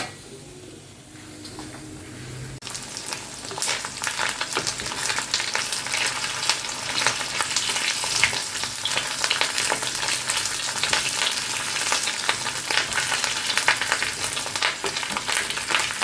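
Steady frying sizzle with stirring scrapes from a wooden spatula working through food in a wok, loud and continuous after a quiet opening, with no talk.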